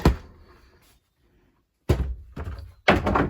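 Cabinet doors in an RV being shifted out of the way during a makeover give three heavy close thunks in quick succession, following a short quiet pause.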